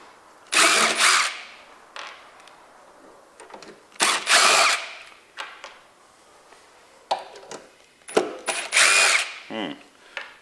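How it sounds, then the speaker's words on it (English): Cordless power drill backing out four screws that hold a cover on a DeWalt DW735 thickness planer, heard as loud close whirring bursts of about a second each, separated by short pauses and small ratcheting clicks. "we need to remove these 4 screws holding this cover here."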